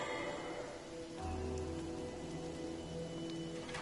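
Soft, steady rain in the video game Divinity: Original Sin Enhanced Edition patters quietly over a low droning ambient tone, with a few faint brighter drips.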